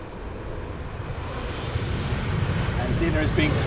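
An airliner on approach to London Heathrow into a headwind, a low engine rumble that swells gradually over a few seconds as it draws nearer.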